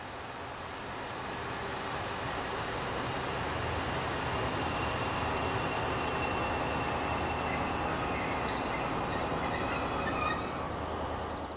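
A DB Class 218 diesel train rumbles steadily along the rails rolling into Ampfing station, a constant broad roar with faint metallic tones, holding at the same loudness throughout.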